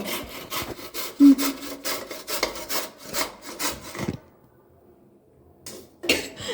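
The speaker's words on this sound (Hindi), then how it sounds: "मैं ओनली एक गाजर घिसूंगा, उससे ज़्यादा गाजर नहीं घिसूंगा" A single carrot rubbed against a grater for carrot halwa, a fast rhythmic rasping of back-and-forth strokes, close and clear, pausing briefly before a few more scrapes.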